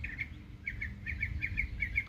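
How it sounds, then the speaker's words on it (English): Short bright chirps from a single bird perched overhead in an outdoor nature setting, repeated in quick pairs and bursts over a low rumbling background, fairly faint and alone with no talking. "See that bird up there? It's chirping by itself."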